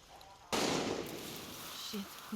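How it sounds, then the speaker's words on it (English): A single sharp, loud gunshot cracks out in the video game Far Cry 6, its noisy burst and ringing tail dying away over a couple of seconds, with faint short blips toward the end. "You hear gunshots, you better drop, player."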